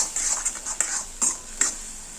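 Ground coriander paste sautéing in a pan for coriander leaves rice, with a soft steady sizzle under a few sharp clinks of a spoon stirring against the pan, close and moderately quiet.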